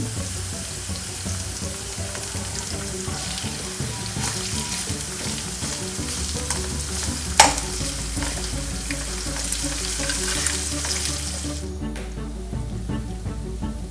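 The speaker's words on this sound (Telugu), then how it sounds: "అవన్నీ వేసి కూడా ఫ్రై చేసుకున్నాం" Green chillies frying in a pan for a mixed vegetable curry, a continuous loud sizzle with occasional stirring taps, close up, the hiss dropping away near the end.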